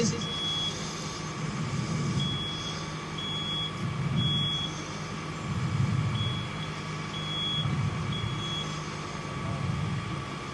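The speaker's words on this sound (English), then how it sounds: "I think we heard a fire alarm activating." A high, repeating electronic fire alarm tone during a sprinkler demonstration chirps in regular pulses over a low rumbling background hum, moderately loud and steady.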